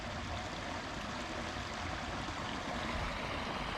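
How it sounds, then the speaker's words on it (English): Small creek flowing beside Hood Canal at Potlatch State Park, Washington: a steady, fairly loud rushing of water with no voices. "Neat little creek."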